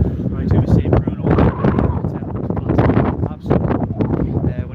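Strong wind buffets an outdoor microphone at St James' Park football stadium, a loud, continuous rumbling roar that runs under someone talking throughout.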